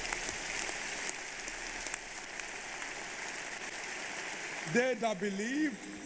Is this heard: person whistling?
no